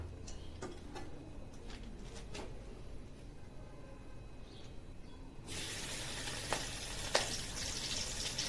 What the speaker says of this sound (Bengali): এবার সেই তেলে লবণ হলুদ মাখানো চিংড়িগুলো ছেড়ে দেব।